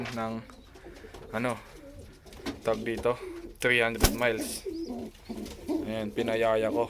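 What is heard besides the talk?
racing pigeon cooing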